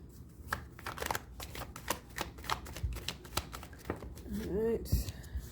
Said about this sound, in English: You like learn shuffling tricks or something.